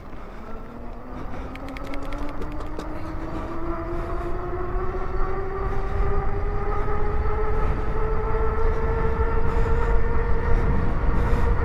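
An Engwe X24 folding e-mountain bike in sport mode accelerates on throttle and pedals, its motor whine climbing steadily in pitch over wind and road noise.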